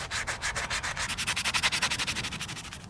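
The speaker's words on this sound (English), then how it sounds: "I'm also going to sand the flywheel real good." Sandpaper rubs rhythmically across the flywheel of a Kohler 149cc XT lawn mower engine, a close, loud series of rapid back-and-forth scratchy strokes with no voices.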